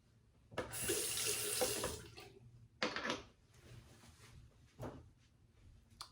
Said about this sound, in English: let me go ahead and wet my face a little bit